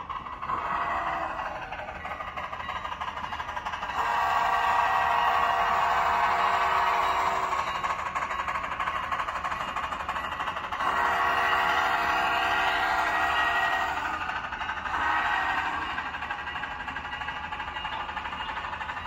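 An HO scale model train, a Milwaukee Road Northern, hums and clatters steadily along its layout track, the motor whine rising and falling as it passes closer and farther away.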